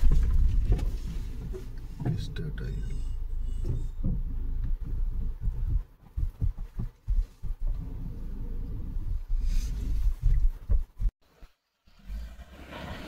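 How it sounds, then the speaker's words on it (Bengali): A Grand Vitara stuck off-road, its wheels skidding and spinning without grip, with engine revving in uneven bursts, stuttering and cutting out before falling nearly silent. "চাকা পুরো স্কিট করছে, মোমেন্টামই পাচ্ছে না।"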